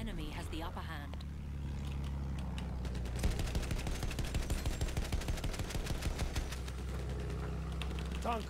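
Rapid automatic gunfire aimed at an enemy bomber in the Battlefield 1 video game, a dense stream of shots over a low engine drone, with steady rattling bursts through the middle of the clip.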